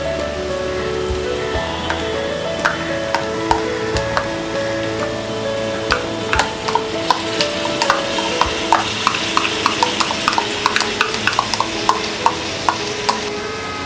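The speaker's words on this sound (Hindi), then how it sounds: "अब हम इसमें डालेंगे ये धुली हुई मूंग दाल" Washed moong dal tipped into a pan of broken wheat khichdi, with a steady sizzle of frying under scattered sharp clicks and scrapes of stirring that grow busier toward the end.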